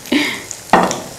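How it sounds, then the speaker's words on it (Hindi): Potato kababs fry in oil in a frying pan, giving a close sizzling hiss in two short surges, each starting with a soft clatter, as if the pan is nudged or the kababs are turned. "अब इसको हमने गोल्डन फ्राई होने तक नहीं निकालना फ्राइंग पैन से।"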